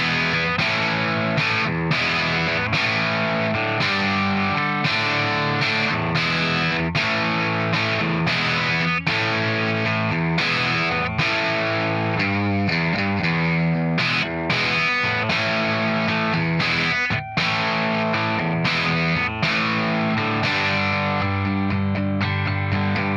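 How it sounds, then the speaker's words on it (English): A loud, distorted electric guitar plays a guitar solo, with fast bending lead lines over a steady backing rhythm that runs without a break and without any talking. "we go to the guitar solo"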